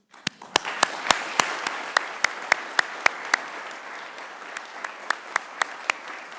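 An audience applauds at a Veterans Day ceremony, giving a steady patter of many hands. A few sharp, distinct claps sound close by and continue for several seconds, and no one speaks.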